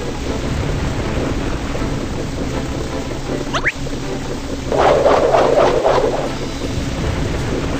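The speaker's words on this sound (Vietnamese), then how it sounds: "Có một cơn bão ở đằng kia." A thunderstorm out at sea in a cartoon adventure: a steady wash of rain and wind, a sharp crack of lightning, then a loud rumbling roll of thunder that lingers near the end.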